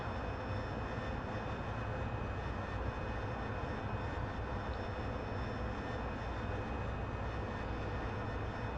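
An AV-8B Harrier's jet engine roaring through a conventional takeoff climb, heard as a dense, steady broadband rumble and whine that holds at an even loudness for the whole stretch with no speech.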